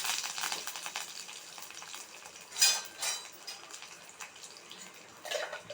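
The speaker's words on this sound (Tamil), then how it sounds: "இப்போ கடுகு வெடிச்சிட்டு தட்டி வச்ச பூண்டு பல் இதில் சேர்த்துக்கலாம்" Hissing, crackling oil sizzles steadily up close as mustard seeds and crushed garlic fry, with a few louder spattering pops breaking through.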